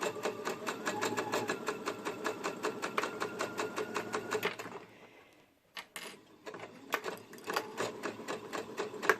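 A sewing machine stitches fabric for a sunshine dress in a rapid, steady mechanical chatter, pausing briefly mid-way as the needle stops and the work is turned, then resuming at close range.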